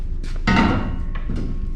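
A rubber hammer knocks a boat propeller loose from its shaft, giving two dull, fairly close thumps about half a second apart over a steady low background.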